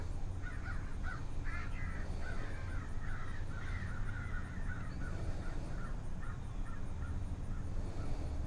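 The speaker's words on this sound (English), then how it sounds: "Just been listening to the Blue Jays and the Mockingbirds and that murder of crows out behind me." A murder of crows cawing out behind, repeated harsh caws in loose clusters at mid distance over a steady outdoor background rumble, no talking.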